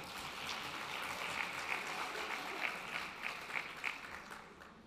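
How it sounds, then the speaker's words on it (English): Moderately dense audience applause at an Education International live-streamed conference, steady clapping heard at some distance with a few sharper claps standing out midway before it begins to fade. "Give yourselves an applause for that."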